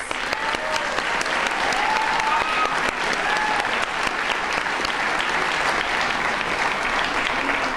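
Long, steady applause from a large audience for the teachers at a lower school graduation address, dense even clapping that holds at full strength throughout with faint crowd murmur beneath.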